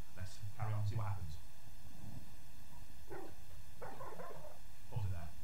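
A Cane Corso gives several short, deep barks in separate bursts, moderately close, with a faint background hum and no talk over them.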